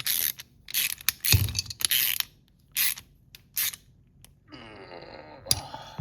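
A ratchet wrench with a 1/2-inch socket tightens a ball stud onto the hood bracket of a Triumph during a hood lift upgrade, giving short bursts of close, crisp clicking between pauses and a brief scraping at the end.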